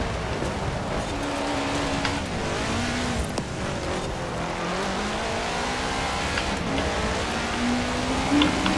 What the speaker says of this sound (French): il y a des flaques d'eau de partout où il pleut